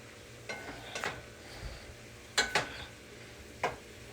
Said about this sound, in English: I'm going to just stir to coat everything